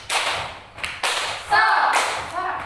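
Children clap hands in a classroom rhythm game, a few sharp bursts of claps forming a short beat pattern, fairly close and loud, with a teacher's voice calling out between the claps.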